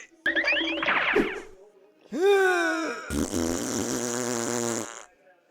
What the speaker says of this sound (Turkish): sadece osurman mı gerekiyordu?